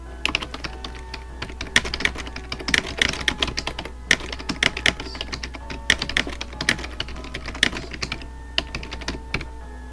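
Rapid, uneven keystrokes on a computer keyboard, typed in bursts at close range over a steady low hum, with no one speaking.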